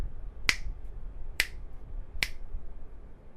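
Three sharp, evenly spaced handclaps or snaps made to sync audio across several cameras, close and crisp over a quiet room with no talking.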